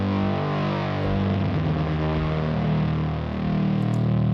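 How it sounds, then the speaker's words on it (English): A synth preset pushed into heavy distortion produces a thick, buzzing, saturated sustained tone with dense harmonics that swells slightly and holds steady for the whole stretch. "be aware it is programmed for balls to the wall distortion"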